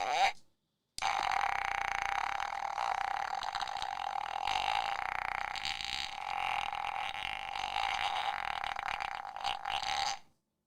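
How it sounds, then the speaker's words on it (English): A toy plays an electronic sound effect of a toilet flush followed by a very long, drawn-out fart, loud and continuous for about nine seconds after a brief opening burst. "Toilet flushing. And then this absolutely super elongated fart."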